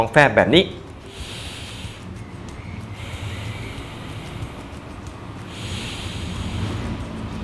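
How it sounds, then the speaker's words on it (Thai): A person demonstrates belly breathing, with the abdomen expanding on each breath in and deflating on each breath out. After a brief burst of voice, three long, airy breaths follow, soft and close. "หายใจเข้าท้องป่อง หายใจออก"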